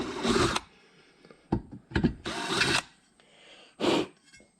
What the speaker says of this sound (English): Now I can continue drilling through from this side.